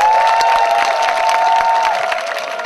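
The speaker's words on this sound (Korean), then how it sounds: "다시 한번 큰 박수 부탁드립니다." A crowd applauds and cheers loudly at a military unit's entertainment show, a dense wash of clapping and shouting with a sustained whistle-like tone in the middle.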